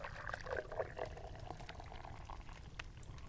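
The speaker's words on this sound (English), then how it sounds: "you hear your friend pouring the drinks." Hot chocolate drinks are poured into mugs, a soft, faint liquid pour with gentle trickling under a low ambient hiss, brief and calm.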